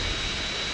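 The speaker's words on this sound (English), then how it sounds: "now it's back to the enemy jet fighter and try and take him down" A jet fighter's engine in GTA San Andreas during the Vertical Bird mission roars with a steady, loud broadband whoosh throughout the brief moment, with no voices.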